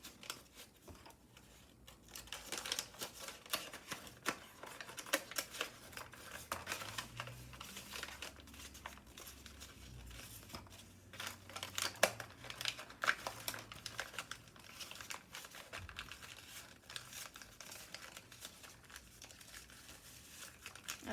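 Paper being folded for an origami aircraft carrier gives soft, close crinkles and creases in irregular bursts, faint and continuous with low background rumble.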